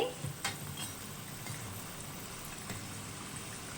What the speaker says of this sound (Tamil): ரெண்டுலேருந்து மூணு நிமிஷம் வேக வச்சு நல்லா இந்த மாதிரி கோல்டு கலரில் வரும்போது நம்ம வந்து சமோசாவை எடுத்துக்கலாம்